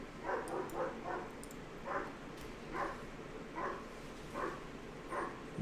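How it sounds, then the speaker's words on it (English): A pet dog indoors barking at someone outside, a steady series of about eight muffled, moderately distant woofs at a regular pace, heard without any talk. "My dog. Somebody outside."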